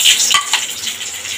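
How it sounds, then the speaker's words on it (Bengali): Nigella seeds dropped into hot mustard oil give a sharp burst of sizzling and crackling that settles into a steady hiss, close and clear with a faint stir of a utensil. "এদিকে আমার তেল গরম হয়ে গেছে, ফোড়নে দেব কালো জিরে।"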